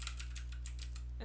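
Quiet, light keystrokes on a computer keyboard while text is typed into an editor, about eight separate taps in an uneven rhythm, ending in a soft thump.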